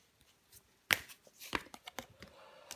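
Tarot cards being handled and laid down on a table: two crisp slaps stand out among softer shuffling and sliding taps, close and brief, with no voice.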